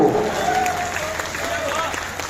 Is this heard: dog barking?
no